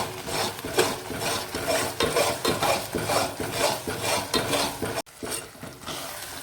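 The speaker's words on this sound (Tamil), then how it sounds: "நல்லா ஹை ஃப்ளேமில் வச்சு நல்லா ஒரு கிளறிக்கிட்டே இருக்கும்" Kasi halwa stirred steadily in a pan over a high flame, a continuous close scraping and rubbing with a rhythmic back-and-forth texture, briefly interrupted near the end.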